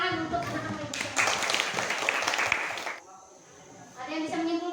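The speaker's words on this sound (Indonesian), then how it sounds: "tepuk tangan untuk anak-anak ibu semua" Classroom children applaud in a burst of clapping that rises after a teacher's talk, holds for about two seconds, then fades, with voices speaking before and after.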